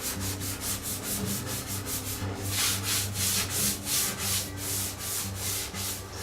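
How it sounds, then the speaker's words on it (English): Steady back-and-forth sanding of wooden wheelbarrow handles by hand with a sanding block, with a brisk, even rhythm of rasping strokes and no talking. "I'm going to take a sanding block"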